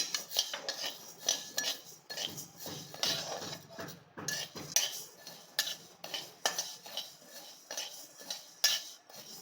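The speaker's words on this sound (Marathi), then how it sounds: "उडीद डाळ आपल्याला घालून घ्यायची आहे तेही आपण भाजून घेऊया" Urad dal is dry-roasted in a pan over low heat and stirred with a metal spoon, giving repeated close clinks and scrapes against the pan and soft rattling of dry lentils.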